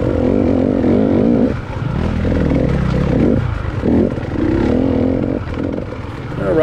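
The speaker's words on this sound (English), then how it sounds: "that big 450 in front of me just accelerates fast when you get on the throttle" A big Suzuki 450 SX motocross bike accelerates along a woods single-track trail, its engine loud and close, surging and dipping with the throttle as a voice talks over it.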